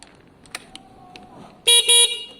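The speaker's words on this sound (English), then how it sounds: "There's an old horn in the garage." An old horn fitted to a Kawasaki ER5 motorcycle blares twice in quick succession, loud and close, after a few faint clicks and taps in a garage.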